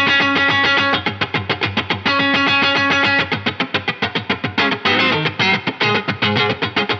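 Distorted electric guitar strummed hard across all strings, a steady run of loud rhythmic chords with brief choked gaps, played alone with no voices.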